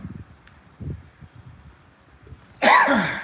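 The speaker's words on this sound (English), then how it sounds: "little dry itch back here in the back of my throat, trying to cough it out" A single sharp, harsh cough bursts out near the end, loud and close, after a stretch of quiet low rumbling, from someone clearing a dry, itchy throat in a workshop.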